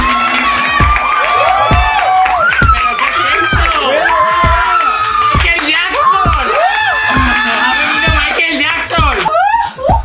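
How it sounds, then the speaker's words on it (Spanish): A crowd cheers, whoops and shouts at a televised Spanish talent gala as the jury is welcomed, with lively voices and screams layered over steady clapping throughout. "¡Un super aplauso para el jurado de Super Dolls!"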